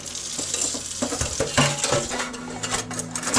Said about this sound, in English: just rinse it all off